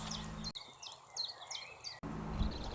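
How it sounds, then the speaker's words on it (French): A common chiffchaff sings in open countryside, a few separate high chirping notes repeated in an uneven rhythm, faint against a quiet background. "le pouillot véloce."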